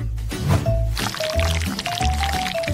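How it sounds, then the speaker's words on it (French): Jelly poured over the top of a film-wrapped chocolate cake, a soft continuous liquid pour with gentle splashing, close and steady, with a brief bit of background music-like tone. "Et sur le dessus, je verse de la gelée."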